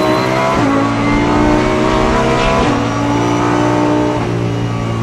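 Lamborghini Huracan GT3 race car driven flat out on a track, its engine roaring loud and close as it climbs through the revs, with sharp drops at three quick upshifts.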